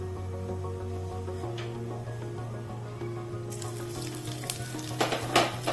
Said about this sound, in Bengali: এবারে দিয়ে দেবো রসুন রসুনটাকে ভালো করে ব্রাউন করে ফ্রাই করে নেবো